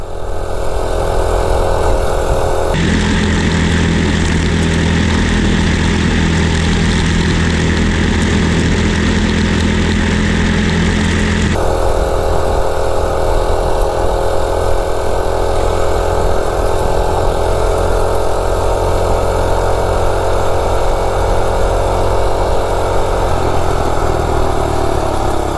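A small gas mini bike engine running on diesel idles loudly and steadily, a throbbing drone that rises in pitch for several seconds before settling back to a rougher idle, with no talking.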